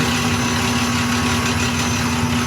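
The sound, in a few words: shaping machine grinding wheel grinding material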